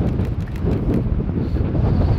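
Strong wind buffeting the microphone beside a Scottish loch in the Highlands near Alness, a loud continuous low rumble and roar with no other clear sounds.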